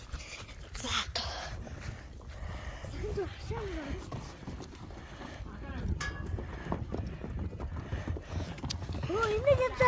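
Horses arriving at a rural Mongolian homestead, hooves clip-clopping at a walking pace through a steady outdoor murmur, with people talking throughout and occasional higher calls.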